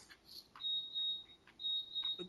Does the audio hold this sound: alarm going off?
yes